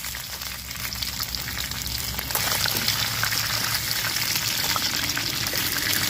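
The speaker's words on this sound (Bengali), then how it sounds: "এই যে আমার মাছ ভাজি হয়ে গেছে" Pieces of rohu fish fry in hot oil with a steady crackling sizzle that grows louder and denser partway through, close by and with no one talking.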